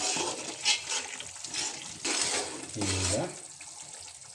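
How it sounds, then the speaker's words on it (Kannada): Water at a rolling boil in a pot on the stove while cooking Chennai-style dum biryani, a steady bubbling and sizzling hiss under a nearby voice speaking. "ಚೆನ್ನಾಗಿ ಕುದೀತಾ ಇದೆ"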